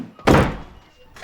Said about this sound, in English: Swinging door.